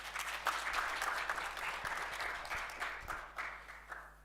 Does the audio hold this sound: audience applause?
yes